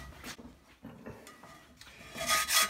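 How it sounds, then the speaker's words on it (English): A scraper rasps across a cast iron pan at a low angle, producing close, uneven scratchy strokes that grow louder and brighter toward the end, with no talking. "scrape with kind of a low angle so I don't dig into the seasoning too much"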